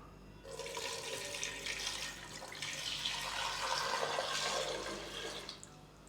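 Water runs steadily into a cooking pot, about a kilo of it over roughly 600 grams of potatoes set for boiling, a continuous close splashing stream that tapers off near the end.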